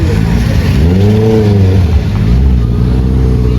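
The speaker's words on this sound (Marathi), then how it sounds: "गाड्या CBR 650" A Honda CBR 650 motorcycle engine revs loud and close on a Sunday ride to Khandala, its pitch sweeping up then easing back down over a heavy, steady roar with wind buffeting.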